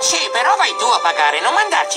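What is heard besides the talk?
No distinct noise like a dog, phone or traffic.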